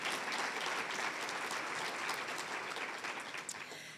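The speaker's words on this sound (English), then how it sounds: "Even in the dust, that deserves a round of applause." A dense wash of audience applause fills the room, steady and even throughout, heard at a moderate distance and tapering slightly near the end, with no voices on top.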